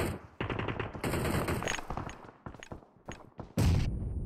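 Sharp automatic gunfire from a battle royale shooter, several rapid bursts and single cracks close by and loud, broken by short pauses, with a heavy blast near the end.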